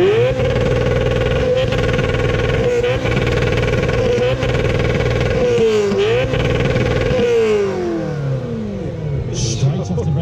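A Ferrari 348 TB with a 3.4-litre V8 and race exhaust revs loudly and up close at a supercar sound-off event, climbing and falling in repeated sharp blips, then holding one long sustained rev near the limiter.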